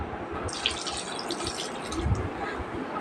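Water pours into a cooking pot holding lentils with chopped green chilies and tomatoes, a steady splashing stream running throughout at close range with no voices.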